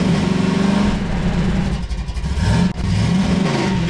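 Car engine revving in the video game Half-Life 2, a loud steady mid-pitched roar with rising and falling pitch sweeps and a brief dip near the end.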